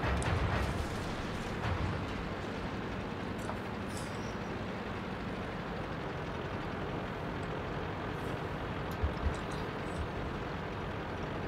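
Artillery shells rumbling and booming in the tank game World of Tanks, with a dense, continuous roar of battle noise and a couple of sharper cracks near the end.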